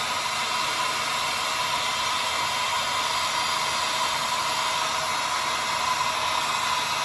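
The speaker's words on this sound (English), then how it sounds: "just hit it with the heat gun or cigarette lighter" Heat gun blowing steadily while shrinking heat-shrink tubing, a constant airy roar that holds at an even level throughout with no pauses.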